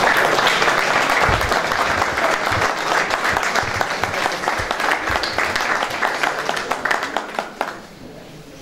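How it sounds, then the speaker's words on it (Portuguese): Sustained applause for a jury at the opening of a sports champions exhibition, a dense crowd of hands clapping steadily for several seconds before thinning out near the end. "eu pedi uma salva de palmas para o júri"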